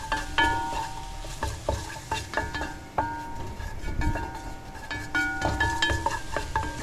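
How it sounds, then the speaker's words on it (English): Flour cooks in a pan while a utensil stirs and scrapes against the metal in quick repeated strokes, with ringing clinks over a light sizzle. "We just have to cook that flour"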